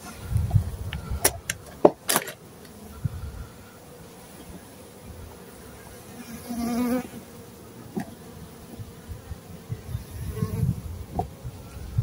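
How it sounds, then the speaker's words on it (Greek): A dense crowd of honeybees swarms outside a beehive, their buzzing a constant, close drone that swells and fades, broken by a few sharp knocks and handling clatters near the start. "οι μέλισσες κρέμονται και στο κυρόπανο, και εδώ απ' έξω γίνεται ο χαμός του χαμού"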